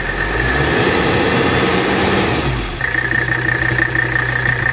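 A 1983 Mercedes 300CD with 51,000 miles in mint condition idles steadily and loudly, a continuous engine drone with a low rumble that shifts in tone partway through, with no voices.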